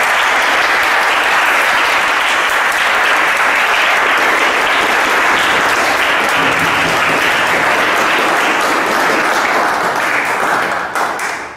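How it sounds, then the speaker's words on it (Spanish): A guest speaker at a science and mathematics talk receives loud, sustained audience applause, dense clapping filling the whole stretch before tapering off at the very end. "Un aplauso para nuestro invitado."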